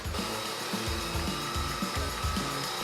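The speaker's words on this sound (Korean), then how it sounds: "잘라놓은 나무판을 사포로 문질러서 매끄럽게 다듬은 뒤" Steady, continuous rubbing of sandpaper on a cut wooden board, with a faint repeating back-and-forth rhythm, close by, with a persistent high hum underneath and no voices.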